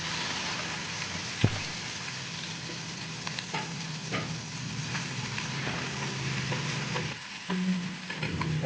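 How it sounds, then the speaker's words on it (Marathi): Onion frying in a pan with asafoetida and a green chilli for a Wadval-style okra curry, a steady close sizzle broken by scraping stirs of the spoon, with no talking. "कांदा शिजवून घेणार थोडा."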